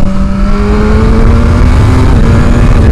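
BMW S1000RR motorcycle engine revving hard and very loud up near its high-rev range, a steady sustained whine with a slowly rising pitch, close and alone with no talk.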